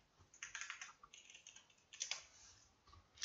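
Quick bursts of clicky keystrokes on a computer keyboard as a command is typed into AutoCAD, quiet and close, in two short clusters with a pause between.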